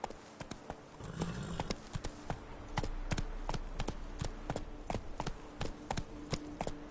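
Roach, a horse in The Witcher 3, gallops with steady rapid clip-clop hoofbeats throughout, loud and close, over a low background rumble.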